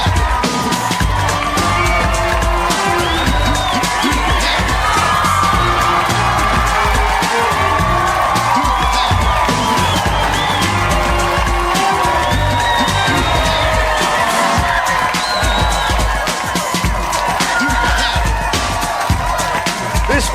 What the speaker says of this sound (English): Take a listen to this crowd.